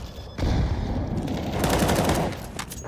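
Tech-9 pistol fire in a Counter-Strike match, dense rapid shots and overlapping gunfire rolling continuously for a few seconds, loud and busy with no clear pauses.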